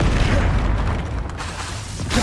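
A Confringo fire spell blasts in Hogwarts Legacy during a hard battle: one sustained, loud, booming explosion that rumbles heavily throughout, with a fresh burst swelling again at the end.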